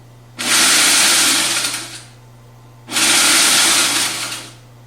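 A food processor chopping peppers runs in two loud pulses of about one and a half seconds each, separated by a short pause, over a steady low hum.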